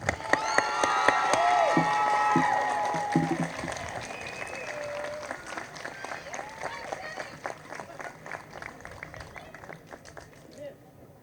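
An audience at a school moving-on ceremony gives louder applause for the graduating class, a dense burst of clapping with cheers and voices that swells early and then thins to scattered claps as it dies away.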